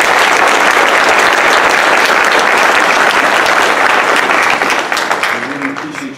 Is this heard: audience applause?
yes